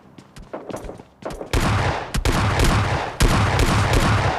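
Bursts of suppressed gunfire in the mobile battle game PUBG Mobile Lite, a few scattered shots giving way to loud sustained automatic fire in two long volleys.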